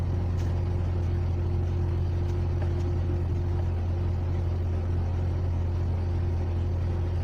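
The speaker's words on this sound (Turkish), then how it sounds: "Şu an araba çalışıyor dediğim gibi" Car engine idling steadily after replacement of a broken gear shift lever lower mount, a constant low hum with no surges, moderately quiet and uninterrupted, no voices.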